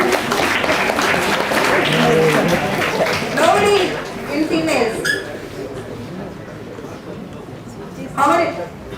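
An audience in a lecture hall at a medical conference claps in a dense, sustained burst that fades after a few seconds as a voice takes over, with another short round of clapping near the end.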